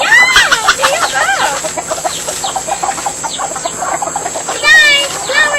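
Several chickens cluck and squawk up close in a busy run of calls, with a brief louder burst near the end and a person's voice mixed in now and then.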